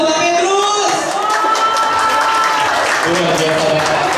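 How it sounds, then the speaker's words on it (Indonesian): Audience applause and cheering at a 30-year alumni reunion in Indonesia, a steady, dense wash of clapping from a crowd with voices and shouts mixed in throughout. "Tepuk tangan untuk Pak Petrus."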